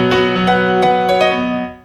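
Keyboard piano with the midrange scooped out on EQ, giving a bright, hollow tone: several chords struck in quick succession, each with a sharp attack, ringing loud and close before fading at the end, no voices.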